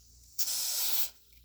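Aerosol spray, likely gas or lubricant, fired into a Walther PPS M2 airsoft pistol from Umarex: one steady, loud hiss lasting under a second that starts and stops abruptly, with quiet around it and no talk.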